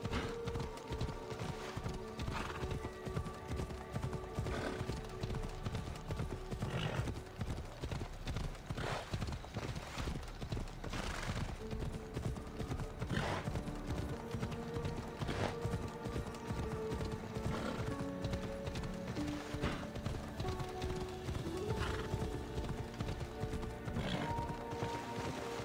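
Horse hooves clip-clopping steadily as a mount gallops along a road in the video game Assassin's Creed Odyssey, with occasional whinnies, loud and continuous over layered game music and ambience.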